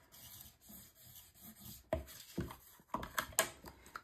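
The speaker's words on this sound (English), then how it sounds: "flip this over and burnish this down with my bone folder" A bone folder burnishes paper down on a mini album cover, making soft dry rubbing strokes, then a few sharper scraping and tapping passes later on. The sounds are close and fairly quiet, with no talking.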